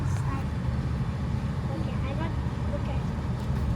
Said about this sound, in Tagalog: Medyo traffic.